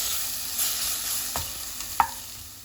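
Spinach bhaji with dry red chillies frying in a pan, a steady close sizzle broken by a couple of short scraping stirs and one sharp clack of the spoon.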